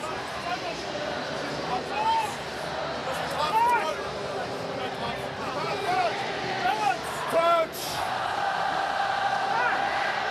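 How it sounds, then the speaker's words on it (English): A rugby crowd at Sky Stadium in Wellington, New Zealand, roars and cheers through a late-game All Blacks versus Wallabies test, a steady wash of massed voices with louder swells and whistles rising above it. "Crowd's having an absolute ball here at Sky Stadium tonight."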